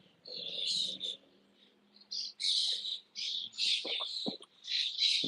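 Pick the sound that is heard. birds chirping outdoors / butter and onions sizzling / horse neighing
birds chirping outdoors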